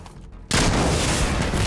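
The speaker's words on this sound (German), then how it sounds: "Das ist gerade explodiert." A sudden loud blast in the shooter game Insurgency: Sandstorm erupts after a quiet moment, followed by a sustained roaring rumble.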